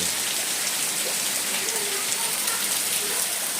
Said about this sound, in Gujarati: જો આવો વરસાદ આવે છે